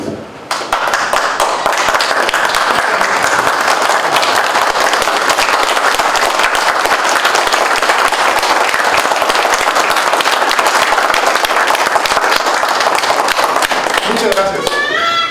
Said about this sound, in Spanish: Yo les quiero dar un aplauso a ustedes, con su permiso.